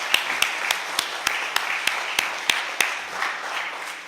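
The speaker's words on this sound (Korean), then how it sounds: "우리 수고하신 분들 미리 박수를 하면 더 좋겠어요" A church congregation at Sunday worship claps in a steady, even rhythm to thank the women who prepared the after-service meal, about three beats a second over a soft room wash, easing off near the end.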